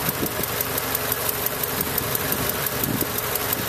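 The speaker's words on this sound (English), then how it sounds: "Well, we can see the vehicle is still running." Car engine idling with the battery disconnected, a steady close rumble with a regular ticking knock, running continuously without speech.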